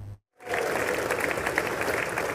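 A dense, steady wash of clapping and cheering fills a joint session of the US Congress as President Donald Trump arrives, continuing loudly after a brief gap of silence at the start.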